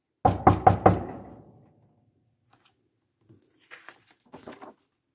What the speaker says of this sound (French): Il tambourine à la porte.